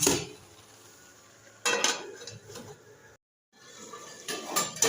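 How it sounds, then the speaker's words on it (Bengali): A lid is set onto a cooking pot of bottle gourd with shrimp, seasoned with salt and turmeric, giving a sharp metallic clatter followed by brief rattling and scraping, then a second burst of handling noise near the end; no one speaks. "এবার ঢাকা দিয়ে দেবো"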